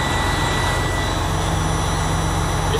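A Freightliner Cascadia's DD15 diesel engine idles steadily nearby, a low rumbling drone with a constant mechanical whine on top, unchanging throughout; the truck's air compressor is building air pressure very slowly.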